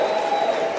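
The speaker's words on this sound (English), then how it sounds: "Give yourselves a round of applause." Audience applause at a motivational talk, steady dense clapping with a bit of crowd noise, filling the whole short moment without a break.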